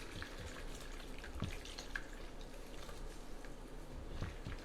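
Faint, close wet squelching and dripping as water is squeezed out of a makeup brush during cleaning, with soft irregular patters and drips.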